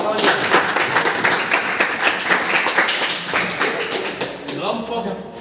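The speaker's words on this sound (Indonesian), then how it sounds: "Kasih dulu tepuk tangan kawan-kawannya" A classroom of students claps together for several seconds, a dense, lively patter of many hands close by that tapers off toward the end, with some voices mixed in.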